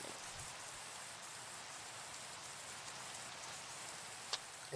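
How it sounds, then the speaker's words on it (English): Steady rain falls in a block-building video game, a soft, even hiss of drops that stays faint and continuous with a single small tap near the end. "Of course it's raining."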